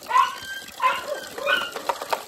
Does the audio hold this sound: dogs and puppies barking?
yes